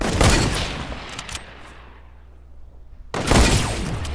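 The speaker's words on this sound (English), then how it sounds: "That was a headshot." Gunfire in a first-person shooter video game, a loud burst of shots and a crashing impact, then quiet decay, then another sharp volley, with no talking.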